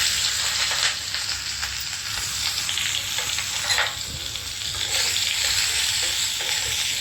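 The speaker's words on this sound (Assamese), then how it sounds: "এনেকৈ পিঁয়াজখিনি মই অলপ ভাজি ল'ম।" Onions fry in a pan after fenugreek seeds, for a paneer dish, giving a steady close sizzle and crackle with occasional stirring scrapes, and no one talks over it.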